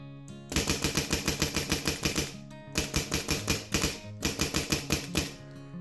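A liquid-powered paintball marker fitted with a BANG switch trigger fires in rapid bursts, three rattling strings of fast sharp shots separated by short pauses, close and loud.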